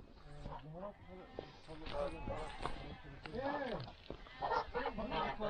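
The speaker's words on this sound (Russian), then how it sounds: "О, здесь гуси." Geese honking in an abandoned village in Dagestan, a dense overlapping chorus of loud nasal honks from a nearby flock, continuous throughout, with hoof-like shuffling and footsteps mixed in.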